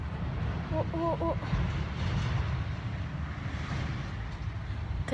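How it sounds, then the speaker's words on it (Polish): A tractor passes on a country road, its low engine rumble a steady drone that fills the whole stretch, mixed with wind noise buffeting the microphone outdoors. "To jednak traktor."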